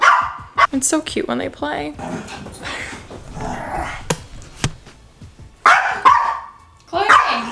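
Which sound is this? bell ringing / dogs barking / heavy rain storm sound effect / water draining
dogs barking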